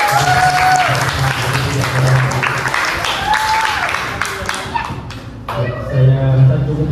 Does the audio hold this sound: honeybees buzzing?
no